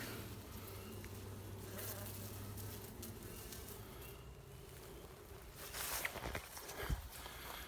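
A honeybee swarm freshly shaken into a hive box gives a steady, close insect buzz that hums on throughout, with some handling and movement noises toward the end.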